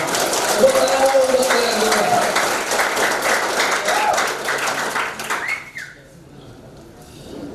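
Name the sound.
audience applause at a political rally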